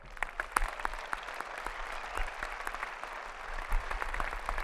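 Graduation ceremony audience applauding in a large hall, a dense steady wash of many hands clapping at moderate level for the whole stretch, with no talk over it.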